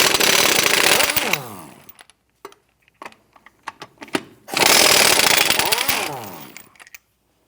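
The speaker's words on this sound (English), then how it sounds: "Using a 21mm socket, let's go ahead, loosen and remove these lug nuts." An impact wrench with a 21mm socket loosens and removes car wheel lug nuts, two loud close whirring-hammering bursts of about two seconds each, separated by light clinks and clatter of the nut and socket being handled.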